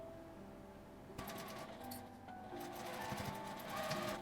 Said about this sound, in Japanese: 縫い代は倒しやすいように倒して端から1センチのところを縫います。